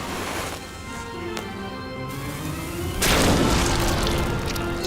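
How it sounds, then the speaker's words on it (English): A cannon fires a zombie into a crowd in an animated horror special, a deep boom swelling under a rumbling soundtrack and then bursting into a louder, sustained crash near the end. "They pointed the cannon at the crowd and fired it"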